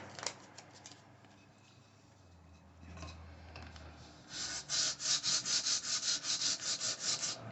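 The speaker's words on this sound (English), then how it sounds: "So we're going to take a piece of tape off." A strip of tape is peeled off a guitar body in a guitar maker's shop, heard close up as a soft rub followed by a quick run of rhythmic ripping bursts. No one speaks.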